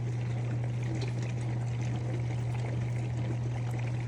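COMFEE' portable mini dishwasher running, a faint steady hum with soft watery swishing, quiet and continuous throughout.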